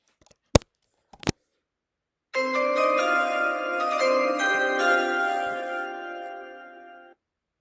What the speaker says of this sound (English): Hear the chimes.